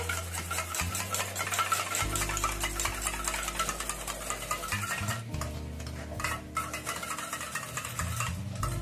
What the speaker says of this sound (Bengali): এই দইটা আমি ভালো করে ফেটিয়ে